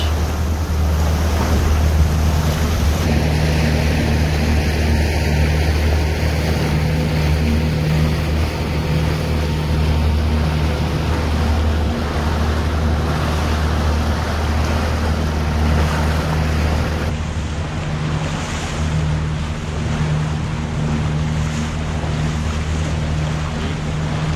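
A jet ski runs over waves off West Palm Beach, its engine droning loud and steady under constant wind and splashing water, with no talk.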